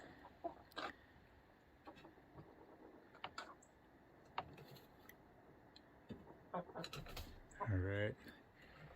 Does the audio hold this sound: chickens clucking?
yes